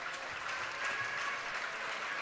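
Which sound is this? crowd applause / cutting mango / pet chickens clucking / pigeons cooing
crowd applause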